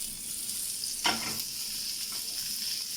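Hot oil sizzles steadily in a pan for frying chickpea kebabs, a constant hissing crackle close by, with a brief louder sputter near the start and no talking.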